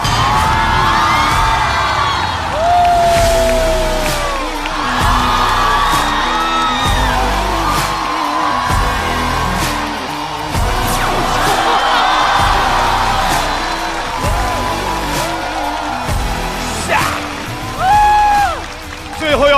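A live stand-up comedy show audience cheers, whoops and yells loudly and continuously as comedians are welcomed onto the stage, with a host's voice heard through the din.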